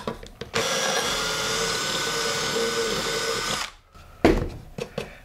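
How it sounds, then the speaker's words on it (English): A power drill bores through stainless steel plate for the end of a hot tent stove, a steady loud whine lasting about three seconds, then stopping, followed by a few short knocks and clanks. "if you're drilling stainless, it's a lot harder than drilling regular mild steel"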